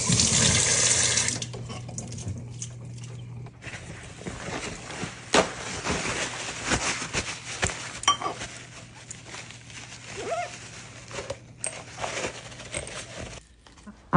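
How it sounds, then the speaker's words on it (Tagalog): A sourdough starter container is washed under a running kitchen tap: water streams steadily into the sink, with clinks and splashes as the container is handled. The flow is heaviest at first and quieter later. "Hinuhugasan ko yung pinaglagyan ko before para dun ko rin siya ilalagay ulit."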